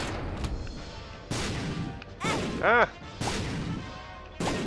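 Bombs going off in The Binding of Isaac, several sharp booming blasts spaced a second or so apart alongside game effects and a brief exclaimed voice, moderately loud.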